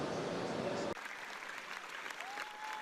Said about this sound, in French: Le réalisateur s'était monté très ému à l'issue de la projection sous les applaudissements du public.